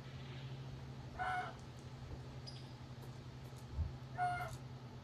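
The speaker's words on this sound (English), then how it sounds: "That's my two grown hens there." Two grown brown-egg laying hens give soft clucks, one short call and then a second after a pause, faint over a steady low hum at feeding time.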